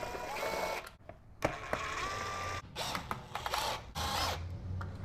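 Small Allen screws being backed out of a Tesla Wall Connector faceplate, giving scattered close mechanical creaks, clicks and brief tool whirs with gaps between turns.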